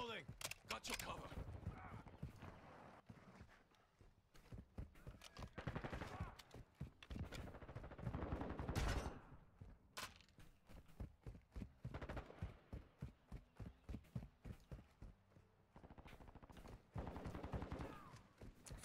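Gunfire in the video game Modern Warfare 2, a busy run of sharp shots and bursts in rapid clusters, some loud and close, mixed with game effects and someone talking over much of the action.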